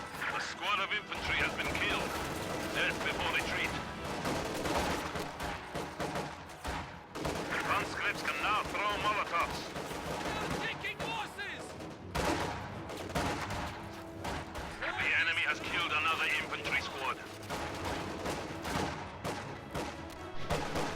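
Grenadiers' rifle fire pours onto conscripts holding a victory point in a video game, with sharp shots and bursts crackling in waves over a busy battle din, while a voice talks throughout.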